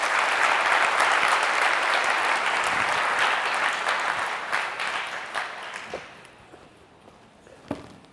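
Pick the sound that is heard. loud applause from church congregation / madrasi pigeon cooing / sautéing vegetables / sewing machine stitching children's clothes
loud applause from church congregation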